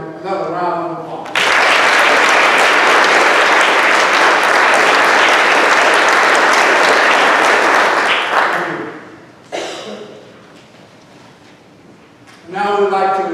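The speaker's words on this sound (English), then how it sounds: "Let's give everyone another round of applause." A round of applause for sponsors at a county board of education meeting, a loud, steady burst of clapping for several seconds that fades, with someone speaking before and after.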